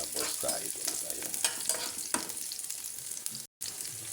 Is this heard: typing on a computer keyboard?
no